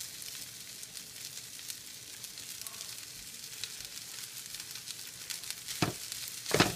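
Lentils hitting a hot pan with wild rice set off a quiet, steady sizzle that holds throughout, with a couple of louder crackling bursts near the end.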